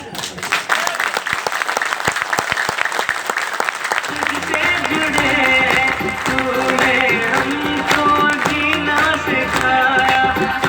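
An audience claps steadily and loudly through a motivational talk, the clapping gradually joined by swelling music from the middle onward.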